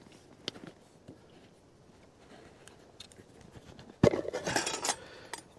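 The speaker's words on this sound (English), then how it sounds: "let's get the mini trangia on" Metal parts of a mini Trangia camping stove clink as it is set up in a forest, soft scattered taps followed by a louder burst of rattling near the end.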